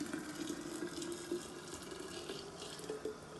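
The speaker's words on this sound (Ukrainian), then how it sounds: "Закипіла, треба, щоб так водичка бурлила прямо. Заливаємо баночку" Boiling water pours into a jar of cherry compote as a faint, continuous gurgling stream with small bubbling pops.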